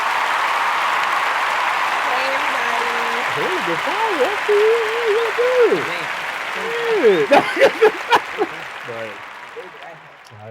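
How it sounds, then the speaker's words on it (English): Steady applause from an audience greeting a co-host fills the room and gradually thins, with a voice talking over it and a few sharper claps standing out near the end. "Give my co-host a round of applause."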